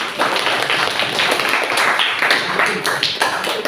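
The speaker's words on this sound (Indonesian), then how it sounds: "Kita berikan tepuk tangan meriah dulu untuk kelompok 4." Festive applause in a classroom for a presenting group during a teacher training session in Indonesia, lively overlapping hand claps from a modest crowd, close and steady.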